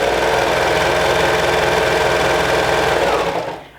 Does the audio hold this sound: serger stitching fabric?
yes